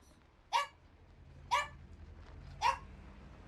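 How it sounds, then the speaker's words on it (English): A dog barks three times, single sharp barks spaced about a second apart, moderately near, over a quiet room hum with no talking. "Sorry about my dog."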